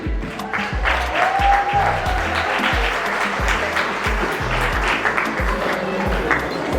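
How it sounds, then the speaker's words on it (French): Wedding guests applauding the bride at an evening cake-cutting celebration, steady dense clapping from a sizable crowd throughout, with voices murmuring underneath. "Je vous dirai d'applaudir pour elle."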